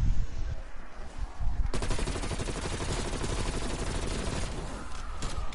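A ray gun fires in Call of Duty Black Ops Cold War zombies on Die Maschine: after a quieter lead-in, a sudden burst of rapid, dense repeated shots carries on steadily to the end.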